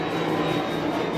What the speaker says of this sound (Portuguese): Deu mó de medo de avião, gente.